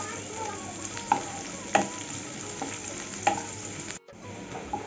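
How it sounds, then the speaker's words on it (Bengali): Chopped onions sizzling in oil in a pan for a loti kasundi dish, a steady quiet hiss punctuated by a few soft scrapes of a stirring spoon, no talking. "পেঁয়াজটা একটু লাল করে ভেজে নেব।"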